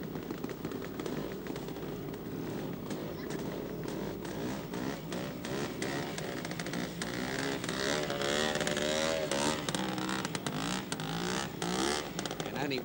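An Aussie trials motorcycle at a 1971 event in Byford, Western Australia, revs and blips in short, uneven bursts at a distance, with crowd noise and a commentator's voice faintly underneath.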